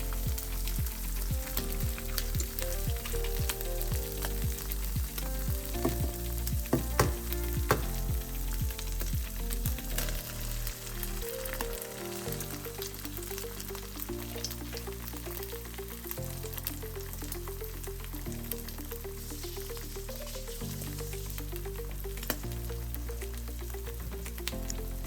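Three eggs frying in a pan, sizzling steadily beside music. Soft scrapes and taps of a utensil sound near the start.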